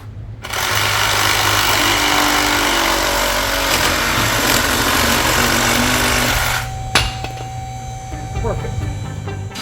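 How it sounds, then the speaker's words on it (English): A Sawzall reciprocating saw buzzes loudly and continuously through pallet wood for several seconds, then cuts off, leaving a clunk and quieter handling sounds. "Good old sawzall."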